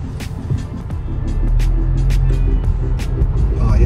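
A 2021 Haval H6 in economy mode pulls away slowly from a standstill, engine drone building gradually to a sustained low rumble heard from inside the cabin, with clicks and rustles over it.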